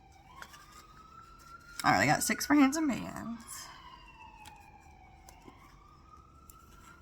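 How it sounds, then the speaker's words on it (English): A police car siren wails past in the distance, its long rising and falling tone sweeping through the whole stretch, while someone talks close by over it for a couple of seconds. "Y'all hear that police car going by?"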